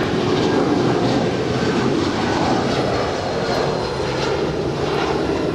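A United Boeing 757-300 jet at Los Angeles airport, its engines giving a loud, steady, broadband roar that holds without a break and with no voices.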